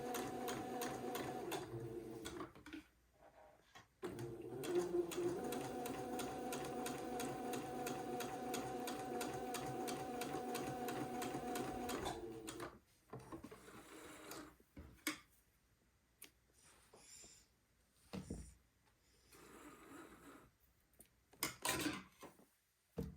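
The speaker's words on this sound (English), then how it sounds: "just sew off the end of the line at the bottom and leave some long tails" A sewing machine stitches a dart on a white boy's button-on suit, running off the end of the line. It gives a steady, close whir for about ten seconds after a brief start, then falls to quieter handling noises with short gaps.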